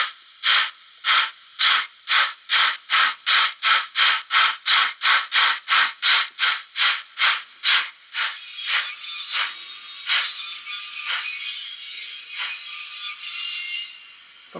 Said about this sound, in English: Function 14 says heavy load, so let's try that. I think it changes the inertia, and it's a deeper chuff.